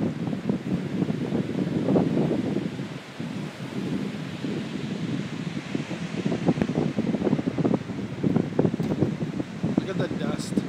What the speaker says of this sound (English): This wind just comes out of nowhere.